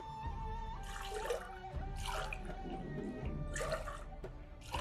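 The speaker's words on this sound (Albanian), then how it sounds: "Dhe ja shtoj ujin, do i shtoj ujë val të nxehtë." Boiling hot water is poured into a cooking pot as three 200 ml glassfuls, three separate splashing bursts, each a gushing pour with gurgles and drips between, recorded close in a quiet kitchen.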